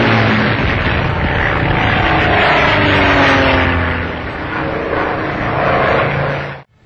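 A French fighter aircraft, the counterpart of the Spitfire, drones steadily overhead with a loud, continuous propeller-engine roar that eases slightly toward the end before cutting off.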